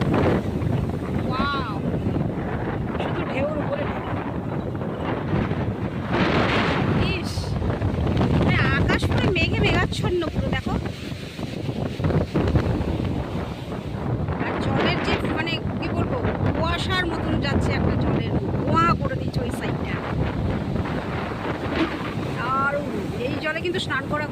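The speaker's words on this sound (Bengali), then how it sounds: "জানি না আমার আওয়াজ শুনতে পাচ্ছ কিনা তোমরা কারণ প্রচণ্ড জোরে হাওয়া দিচ্ছে" Strong gusts roar into the microphone on a beach at Puri while large waves crash and wash in the background, a loud continuous rumble lasting the whole stretch, with a person speaking under the noise.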